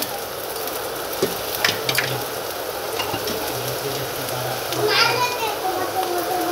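Potatoes frying in a pan in a Bengali home kitchen, a steady broadband sizzle under children's voices and play in the background, with scattered utensil clinks and a brighter stir near the end.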